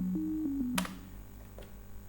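A synth sub FX patch layered over a synth line in LMMS, made for a remake of a song: a few quiet stepped synth tones, then a brief noisy swoosh that fades into low hum.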